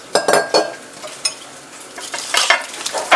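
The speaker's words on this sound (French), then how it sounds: "Je mélange bien avec tout." Lamb biryani ingredients are stirred in a pot, with scraping spoon strokes in uneven bursts over a soft sizzle, close and moderately loud.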